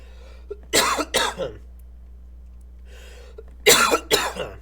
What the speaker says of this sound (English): I'm still dealing with the cough, man.